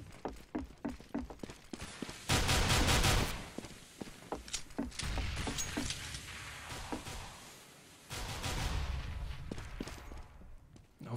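Rapid bursts of gunfire from submachine guns and pistols in a CS:GO match, with dense clattering volleys, sharp individual shots and scattered footsteps across the whole stretch.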